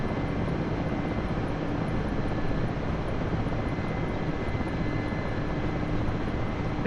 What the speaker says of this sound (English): Bit of a rolling takeoff.